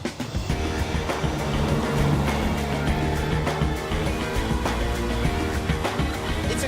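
Small Reliant Kitten car on the move, its engine a steady close drone with rattles and bumps from the cabin, staying loud throughout.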